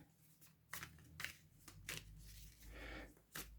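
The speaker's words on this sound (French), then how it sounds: "Alors, 8 cartes, on va mélanger." A small deck of eight playing cards for a board game being shuffled by hand, heard as several close, quick riffling bursts separated by short pauses.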